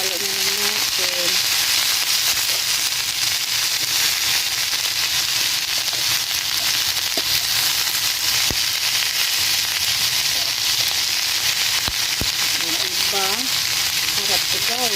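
Vegetables for chop suey stir-frying in a hot pan, a steady dense sizzle that runs unbroken throughout with occasional scrapes and taps of the utensil and a few faint words of talk.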